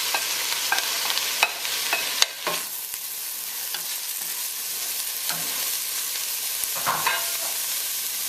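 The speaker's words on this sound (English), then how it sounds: "So just give that a quick stir." Spices frying for chicken curry, stirred in a hot pan: a continuous close sizzle broken by sharp scraping clatters of the utensil against the pan.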